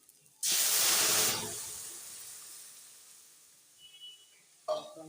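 Masoor dal for a spinach dal hits a hot pan with a sudden loud hiss that fades into a softer, steady sizzle, followed by a brief clatter near the end.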